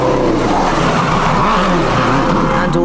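Petter Solberg's rally car on racing slicks at Rally Monte Carlo 2006 corners hard on a narrow mountain road, engine roaring loud and steady with tyres scrabbling and squealing throughout.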